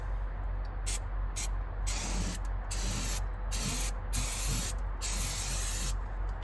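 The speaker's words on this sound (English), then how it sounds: "And then we'll brake clean that off." Brake cleaner sprayed onto a metal part during a project car restoration, a series of sharp aerosol hisses in short and longer bursts over a steady low background hum, close and fairly loud.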